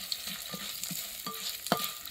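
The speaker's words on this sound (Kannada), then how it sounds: "ಪಟ ಪಟ ಅಂತ ಹೊಡಿತಾ ಇದೆ." Spices and chillies frying in a pan for Coorg village-style egg curry, with soft crackles and a few sharp pops over a quiet steady sizzle, heard close with no talking.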